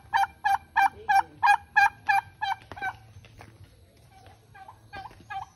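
Farm fowl call in a quick run of about eight evenly spaced, nasal gobbling bursts, then trail off into scattered fainter calls over a low background hum.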